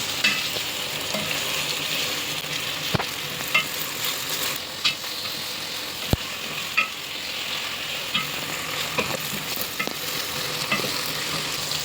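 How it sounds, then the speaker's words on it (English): Chopped tomatoes being stirred in a frying pan for aloo matar, with a steady sizzle and occasional spoon scrapes and clinks against the pan throughout, fairly close and with no talking. "Adding chopped tomatoes. Mixing everything well."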